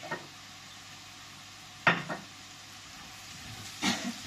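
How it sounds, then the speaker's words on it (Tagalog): Dry garlic frying in a pan until golden: a steady low sizzle with two sharper bursts of stirring or tossing, around the middle and near the end, close by with no talking. "Yung bawang po natin idilaw"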